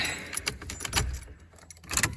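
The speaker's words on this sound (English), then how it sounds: "Just put the keys in it." Car keys jangle and clink as they are slid into the ignition of a 1987 Pontiac Bonneville, a few bright metallic rattles close up in a quiet cabin.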